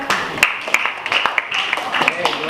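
A class of students claps hands during an Islamic religious education lesson. The claps are scattered and uneven, close by, and mixed with a voice talking over them.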